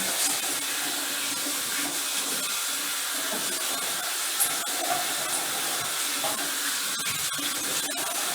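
Tap water runs steadily while hands are washed, a continuous hissing splash with small irregular shifts as the hands move under the stream, fairly close and alone.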